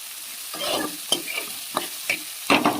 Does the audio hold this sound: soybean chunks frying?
yes